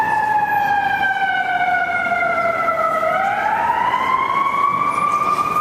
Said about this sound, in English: Fire engines.